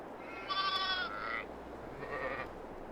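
A sheep in a pen in Farming Simulator 22 gives two wavering bleats, the first longer and louder and the second shorter and fainter, with no talking.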